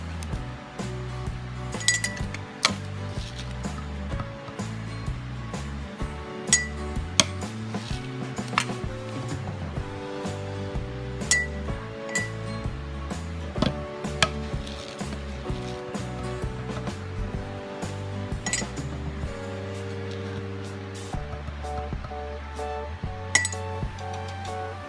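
Glass jars clink and knock repeatedly as oatmeal is scooped in for overnight oats, with sharp, irregular taps over a steady musical backdrop.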